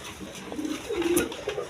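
A pair of Pakistani-bloodline pigeons with young coo in short, soft throaty bursts nearby, a brief murmuring call over a low background.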